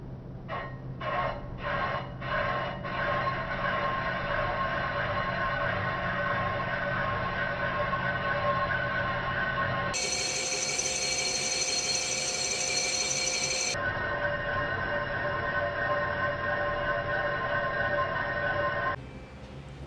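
A machine cutter cuts metal steadily for an engine guide on a Minneapolis Moline Z, giving a continuous loud grinding whine with a few rhythmic knocks at the start and a shift to a higher, harsher tone partway through.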